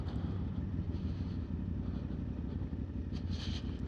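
An Aprilia Tuareg 660 adventure motorcycle ridden along a mountain road, its engine a steady, rumbling drone blended with wind noise, continuous and even throughout, no talking.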